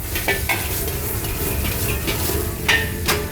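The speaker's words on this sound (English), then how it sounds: "Now add the mushrooms. Stir fry quickly. Get that raw heat." Mushrooms being stir-fried in a hot wok, a continuous loud sizzle with a few sharp metallic scrapes and tosses of the spatula.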